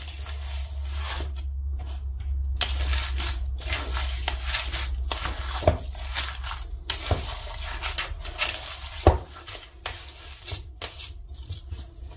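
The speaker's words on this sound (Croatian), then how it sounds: "Znači sve lijepo izmiješajte da se svi sastojci lijepo sjedine i da se sir izmiješa lijepo sa ovim ukuha" Homemade cheese with peppers and garlic is stirred in a pot, giving soft continuous scraping and squishing with a low steady hum beneath and a few sharper knocks, close and moderately quiet, with no talking.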